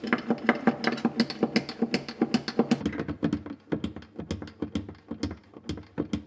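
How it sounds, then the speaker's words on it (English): Small hand pump pushing transmission oil from a drum through a car's fill bung, a steady run of quick rhythmic clicks and squeaky strokes, close and fairly quiet. "I've just got my little Tom Thumb pump here. I've got that into the fill bung here, and I'm just going to continue to pump this entire drum into the transmission."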